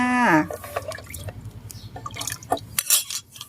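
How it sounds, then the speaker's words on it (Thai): Liquid fertilizer is poured into ten litres of water in a container, making a close splashing, gurgling fill with drips and a brief hard clink, preceded by a short sweeping tone. "เตรียมน้ำ10 ลิตรนะคะ แล้วก็ปุ๋ยน้ำที่เราผสมได้นะคะ เทลงไปเลยจ้า"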